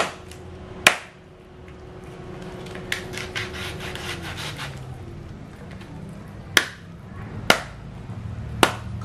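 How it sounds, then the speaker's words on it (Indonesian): A whole chicken is chopped in two for a Pakpak ceremonial dish, with a few sharp, loud blade strikes spaced apart and softer rubbing and scraping sounds between them, and no voice present. "Jadi ini juga dipotong dua, bagian ekor dan"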